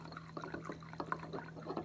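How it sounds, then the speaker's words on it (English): Denatured alcohol pours into a container of shellac flakes with a soft, steady trickle and light dripping, close and quiet, with no speech. "I'm going to just pour the alcohol in there to a certain level"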